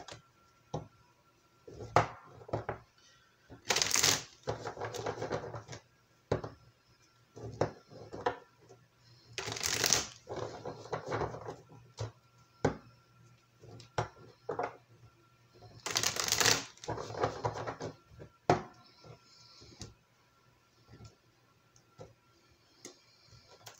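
Tarot deck being shuffled by hand with acrylic nails, repeated crisp riffling bursts and soft card taps in an irregular rhythm, close and fairly quiet, no talking.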